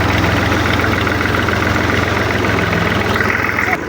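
A tractor engine idles steadily in a farm field, a loud, close, continuous low rumble with an even mechanical throb that barely changes for several seconds.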